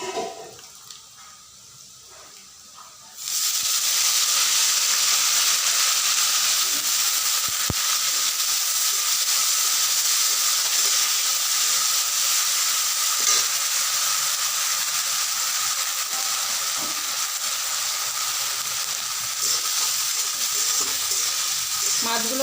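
Prawns fry loudly in a pan for a lau chingri dish, bursting into a steady, dense sizzle after a few quieter seconds and hissing continuously with occasional stirring clicks.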